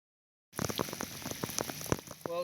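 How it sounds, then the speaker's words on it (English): Rain begins falling outdoors on an arrowhead-hunting site, a scatter of close raindrop taps landing irregularly on nearby surfaces after a moment of silence, with a soft patter beneath them. "Well, it's starting to rain on me,"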